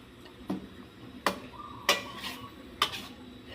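A utensil clanks against a pan four times at uneven intervals while mushrooms are stir-fried, with a faint sizzle underneath and a quiet background.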